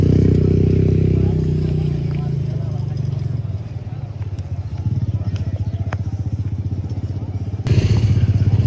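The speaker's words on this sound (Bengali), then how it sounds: "সামনে দেখেন বাইক রাইড বিচের উপর।" Motorcycle engine running steadily on a beach at Cox's Bazar, a loud continuous low rumble up close with a brief louder surge near the end.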